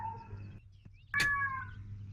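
A house cat gives a short, clear meow, with a faint earlier mew-like tone over a low steady hum and no talk.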